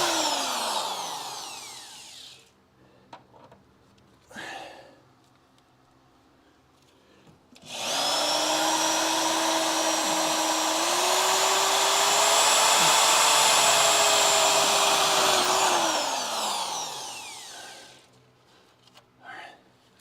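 A power drill bores through a seam in the body of a crew cab Charger, a loud, sustained whine that climbs slightly in pitch and runs for several seconds after short bursts, close up, with no talk.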